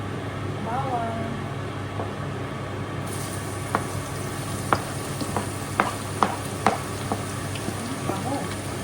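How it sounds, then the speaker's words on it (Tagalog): Garlic sizzles in a hot frying pan, a steady broad crackle with a rising hiss partway through and several sharp clicks of a utensil stirring, close and fairly loud. "mainit na. Lagyan na natin ang ating"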